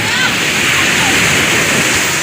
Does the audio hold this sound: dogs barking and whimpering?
no